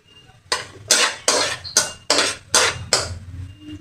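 Ingredients for pork igado sautéing in a pan, heard as seven evenly spaced loud scraping strokes of a spatula against metal over a low sizzle, no voices.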